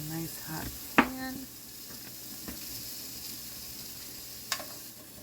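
Vegetable medley sizzling in a hot pan, a low steady hiss broken by a few sharp clinks of utensils, heard faintly under intermittent speech from the cook.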